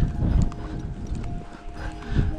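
Horses, a colt and a gelding, walk outdoors in winter, their hooves producing loose, uneven clip-clop steps at close range with some handling noise and no talk over them.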